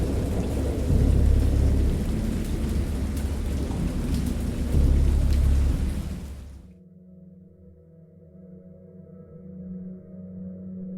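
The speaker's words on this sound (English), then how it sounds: "I know that I heard pearls of thunder and other tones which nature utters only in her wildest moods" Heavy rain with deep rolling thunder during a great storm at sea, loud and continuous, cutting off abruptly partway through and giving way to a low, eerie drone.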